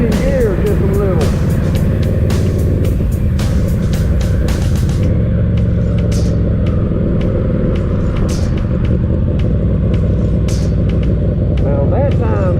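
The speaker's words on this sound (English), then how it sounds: "I'm changing gears just a little." A Yamaha V-Max motorcycle's engine rumbles loudly and continuously as it is ridden through gear changes, with strong wind noise throughout and a voice talking over it.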